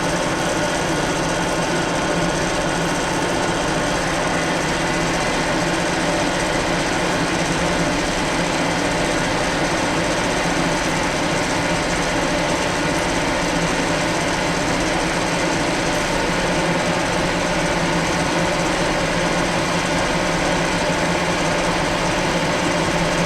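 A 6.8 mm drill bit bores all the way through metal for an M8 tapped hole on a welding positioner grounding connector, producing a loud, steady, unbroken whirring grind that holds constant throughout.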